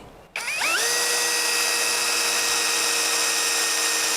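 An OSUKA OCD801 cordless drill is switched on and spins up within a fraction of a second to a steady, high-pitched motor whine, running continuously and close by with no talking.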